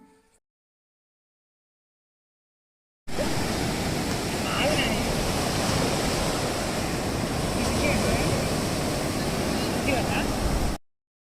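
Sea waves wash onto a family holiday beach in a loud, continuous roar of surf that runs steadily for several seconds after a brief silence, then cuts off.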